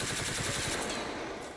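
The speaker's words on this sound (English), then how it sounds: "Mac 10, machine pistol sounds all right." A Mac 10 machine pistol fires a continuous rapid burst in the FiveM video game, a dense, harsh rattle with no gaps, moderately loud and alone.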